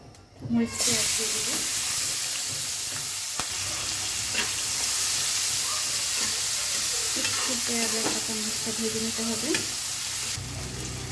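Fish heads frying in hot oil in a pan give a steady, close sizzle and hiss that runs unbroken for about ten seconds, with occasional soft stirring clicks.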